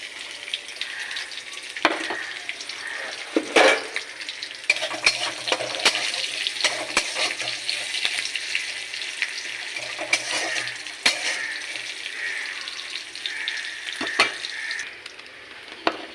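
Whole spices, garlic, bay leaf and dried red chillies sizzling loudly in hot oil, a steady crackling fry with occasional stirring clinks, no talk.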